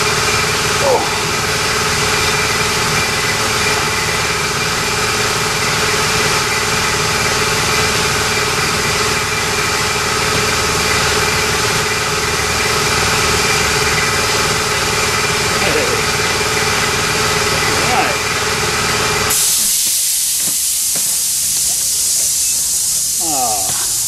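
A MKIII Toyota Supra Turbo engine runs with a steady, loud droning hum and hiss, then the tone suddenly shifts near the end to a brighter airy rush; a voice is briefly heard over it.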